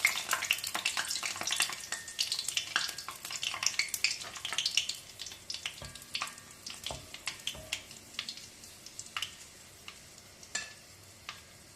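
Two dried red chillies crackle in hot oil alongside fenugreek seeds for a dried bilimbi pickle. A busy close sizzle is dotted with rapid pops and stirring clicks, fading slightly toward the end, with no talking.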